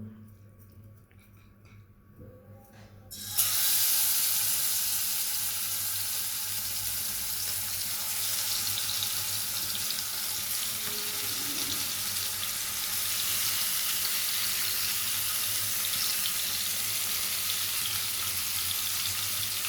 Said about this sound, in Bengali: আমি প্যানে তেল দিয়ে দিয়েছি, এখন আমি মাছগুলোকে একটু ভেজে নেব।